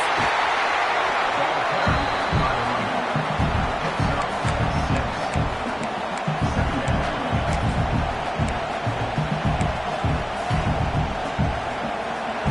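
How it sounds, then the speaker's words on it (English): A football stadium crowd roars and cheers, a dense, sustained wall of noise from thousands of fans that stays loud throughout, with a voice talking over it. "It's early, but this crowd is fired up. Listen to this noise here."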